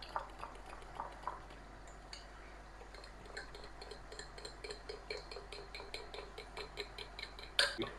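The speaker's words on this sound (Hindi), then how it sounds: "दही मेरे पास 1 किलो है, मैं इसमें मिक्स करूँगी। इसको मैं अच्छी तरह मैश करूंगी।" A spoon stirring and mashing a kilo of yogurt in a bowl for chicken korma, producing soft repeated clinks and scrapes at a quiet, steady pace with no talking.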